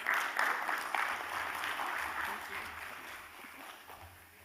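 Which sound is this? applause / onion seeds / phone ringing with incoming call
applause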